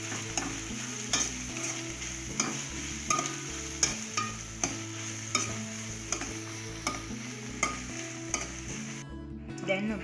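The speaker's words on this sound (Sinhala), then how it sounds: "මෙසේ හොඳින් බැද ගන්න" Cleaned shrimp fry with salt, ginger and garlic in a pan, a steady close sizzle broken by regular scraping strokes of a spatula stirring the mix, stopping abruptly near the end.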